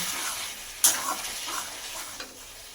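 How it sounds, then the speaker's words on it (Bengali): Potatoes, pointed gourd and soybean chunks with spices, salt and sugar sizzle loudly in a pan. A steady close hiss carries a sharp clatter of stirring and a later lighter scrape. No one speaks. "আর দেব হাফ চামচ চিনি দিয়ে ভালো করে মশলার সঙ্গে আলু পটল ও সোয়াবিন কষিয়ে নেব"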